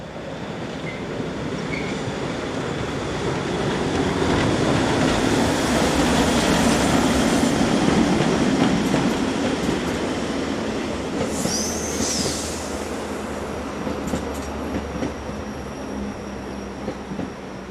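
An ÖBB class 1142 electric locomotive hauls empty coaching stock through Landeck station in Austria, its steady rolling rumble and wheel noise filling the scene, with a brief high wheel squeal midway.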